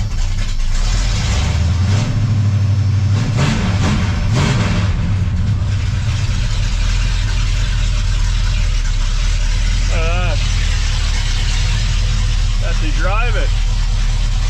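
A Chevrolet K10 shop truck engine turns over and settles into a loud, steady, low rumbling idle close by, with people talking briefly over it.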